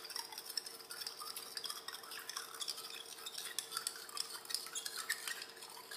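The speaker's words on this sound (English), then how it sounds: "Now I'm going to use my spatula to give this a good stir." A spatula stirs a solid into a liquid solvent in a lab beaker, a steady faint scraping and swishing with light clinks, continuous and alone for several seconds.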